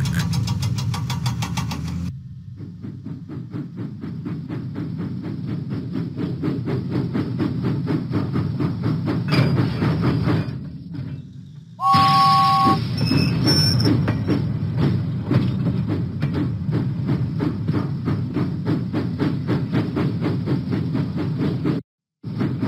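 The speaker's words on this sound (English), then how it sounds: "James pumped his pistons and puffed out of the docks." A steam train engine chuffs along the tracks in a Thomas and Friends video game, with steady rhythmic puffing over a low rumble, a brief pause, a whistle-like tone, then continued chugging.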